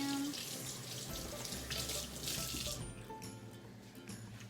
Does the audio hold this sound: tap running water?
yes